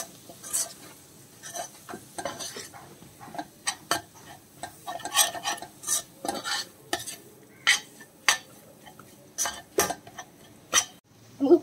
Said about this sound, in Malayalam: ഈ പൊടികളുടെ പച്ചമണം മാറുന്നത് വരെ നന്നായിട്ട് ഇളക്കി കൊടുക്കാം.